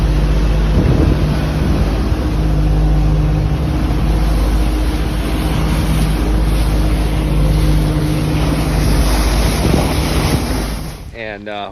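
A motorboat pounds across rough, choppy water in strong wind. A loud constant engine roar mixes with heavy wind buffeting and splashing waves, then fades out near the end.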